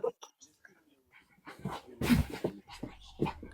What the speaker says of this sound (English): My puppy's trying to do something really naughty